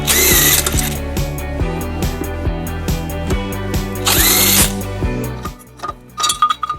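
A power tool with a 14mm socket spins out the tow hook bolts on a 2004 Nissan Murano. Loud close whirring comes in bursts with rattling ratchet clicks and metallic clinks, then it stops and short knocks follow, with no talking.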